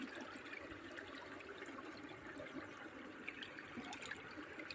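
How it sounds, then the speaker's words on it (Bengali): Water wells up forcefully from an outdoor opening, a steady rushing churn with bubbling and trickling texture, faint and continuous without pause. "দেখছো তো কত জোরে জল উঠছে"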